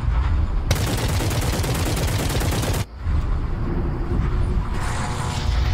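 Rapid automatic gunfire in the VRChat video game, a loud dense burst lasting a couple of seconds followed by continued harsh rumbling noise.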